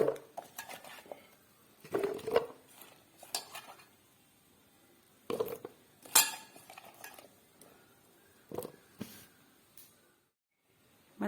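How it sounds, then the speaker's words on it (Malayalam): Tender banana stem pieces, washed and being scooped by hand into a tin for salt pickling, giving close, scattered clinks and scrapes in short bursts with quiet gaps between them, and no talking. "ഇനി നമുക്കിത് ഈ ടിന്നിലേക്ക് വാരിയിട്ട് വെക്കാം."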